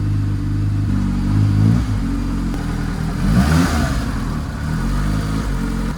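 A classic JDM car with its body stripped down, its engine running and revving unevenly while gears grind because the clutch cable is not fully disengaging; loud, close and steady, with no talk.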